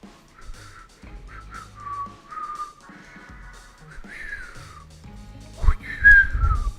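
A person whistles a wobbly, uneven tune up close, with breathy pitch slides and gaps between phrases.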